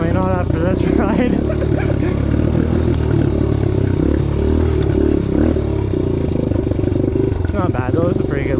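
A 2022 Suzuki DRZ125L motorcycle engine drones loudly and continuously on a rough trail ride, with a rising rev swell near the start and another near the end, under rattling and wind noise.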